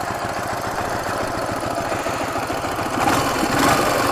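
A motorcycle engine idles steadily after an ignition timing adjustment, a close, even mid-pitched putter with a regular pulsing rhythm that grows slightly louder toward the end.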